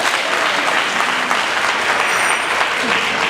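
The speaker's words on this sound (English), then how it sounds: "Can you clap for yourself?" An audience at an artisan empowerment event claps steadily, a dense, even wash of applause from a crowd that stays loud from start to finish.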